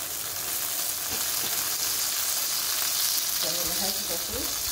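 Tortillas frying in hot oil for red-sauce Mexican enchiladas, a continuous close sizzle and crackle with brief scraping stirs and a short stretch of voice partway through.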